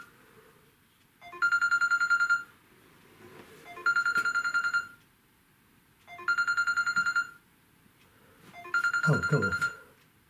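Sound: mobile phone ringtone ringing

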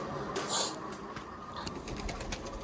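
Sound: pigeons cooing

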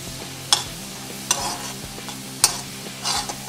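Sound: garlic frying in butter and oil

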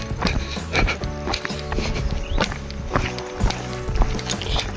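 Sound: horse hooves clip-clopping while walking

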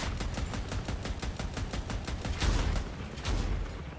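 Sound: AC62 Therm autocannon firing in Crossout video game

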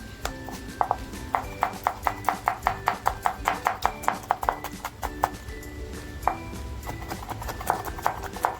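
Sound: finely chopping onion with a knife

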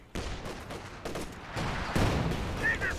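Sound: MG34 machine gun firing in Company of Heroes 2 video game

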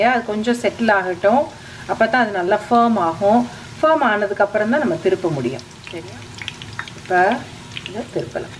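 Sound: ribbon pakoda frying and sizzling in oil

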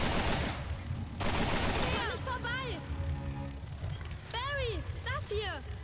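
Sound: gunfire in the video game Resident Evil Revelations 2

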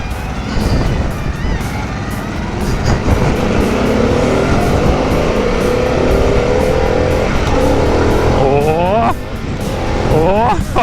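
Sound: Harley-Davidson Pan America motorcycle engine in sport mode

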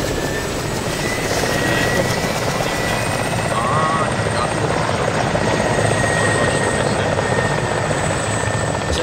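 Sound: helicopter flying in video game ArmA 2

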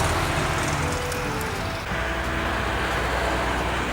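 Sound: car passing by

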